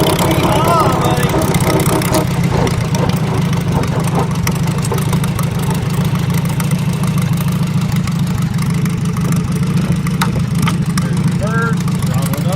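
A Farmall Super A tractor engine runs steadily with the throttle brought up, a continuous low, rough chugging drone that fills the whole stretch without letup.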